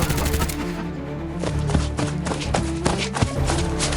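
Rapid cartoon gunshots fire from Gulli Bulli's gun in a horror-themed animated scene, a quick run of sharp cracks over busy background sound.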